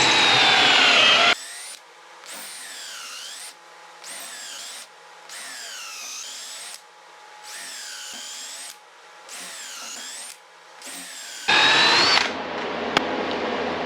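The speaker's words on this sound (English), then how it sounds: "A drill and a U-joint press works great. Just drill holes, as many as you can get." A power drill whines loudly in repeated bursts, revving up and bogging down as it bites into bushings, several drilling runs in a row with short pauses between.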